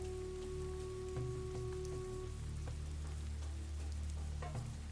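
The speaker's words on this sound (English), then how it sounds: "you can even see the rain hitting the water" Steady patter of rain falling on water in the survival video game Dawn of Man, a continuous soft hiss of drops with a faint tonal hum underneath and no talking.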